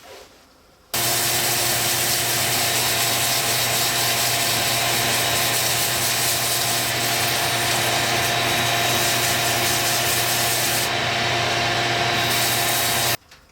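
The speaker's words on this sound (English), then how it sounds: "once you are content with the amount of sanding that you have done here on our resin pour" Coarse-grit sandpaper is held against a spinning resin pour turning on a lathe, giving a steady loud abrasive hiss over a motor hum that starts abruptly, runs for about twelve seconds and then stops.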